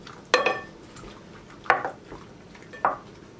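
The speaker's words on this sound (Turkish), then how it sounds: "Sarımsaklı yoğurdu içerisine karıştırıyorum." Garlic yogurt being stirred into a dish, three sharp clinks of a spoon against the pot spaced about a second apart, close and clear over a quiet background.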